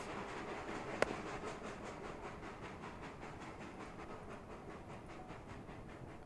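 Train of two carriages in the Blockville city-building game, a steady rolling rumble with a faint repeating clatter, plus one sharp click near the start, continuous and fairly quiet with no talk.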